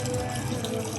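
Coolant drains in a steady, even splashing stream from a big block Chevelle engine that has been pulled out, a constant close watery rush for about a second.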